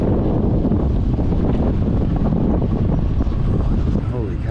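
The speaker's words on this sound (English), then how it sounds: "It is so windy." Strong wind buffets the microphone on a boat at sea off Colombia in a steady, roaring rush, with a low rumble of water or the boat beneath it.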